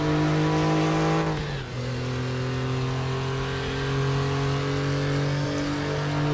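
Porsche race car in the RaceRoom racing game, its engine holding a loud steady high drone, dipping briefly as it shifts, then pulling back up into a sustained close roar.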